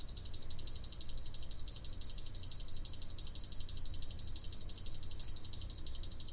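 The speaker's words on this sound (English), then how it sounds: "All right, it stopped beeping." A biometric safe's keypad error alarm beeps, a high electronic pulse repeating rapidly and steadily in a fast even rhythm with no pauses, close and moderately loud.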